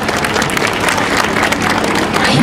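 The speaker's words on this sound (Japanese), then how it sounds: "もう一度拍手をお願いいたします。" Audience applause at an outdoor spring festival concert in front of a tower in Nakameguro, Tokyo, a dense, loud, sustained clapping from a crowd with no voices over it.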